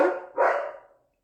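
Two loud, close barks from Raika, a pet dog indoors near a window, the first sharp and the second longer, fading out within about a second.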